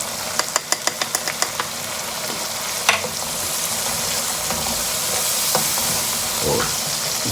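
Matar pulao sizzles steadily in a pot as coriander powder is added, with a quick run of metallic clinks and taps near the start, one sharper knock, and continuous frying hiss throughout, with no talking.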